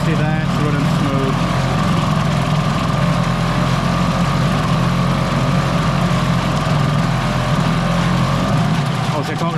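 Hangkai 6hp two-stroke outboard motor running smoothly in gear with the cover on, a loud, constant buzzing drone close by, with a person talking over it.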